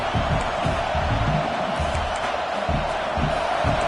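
A stadium crowd roars at a college football game against Colorado, a dense, sustained wash of cheering and shouting with swelling whoops, steady and loud throughout.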